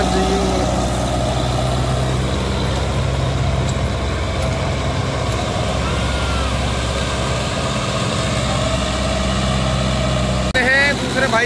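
A Sonalika DI 750 III tractor engine runs in low gear at about 1500 RPM, a loud steady diesel drone with a deep throb, close and continuous, with a brief squeal near the end.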